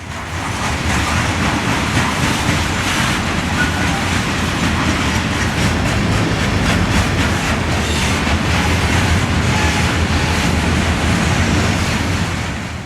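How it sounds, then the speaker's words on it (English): A Conrail coal train of hopper cars pulls out of the yard at Crescent behind three GM diesel locomotives, a loud continuous rumble and rolling clatter close by throughout. "The coal train and its 3 GM locomotives are soon underway, leaving the yard at Crescent."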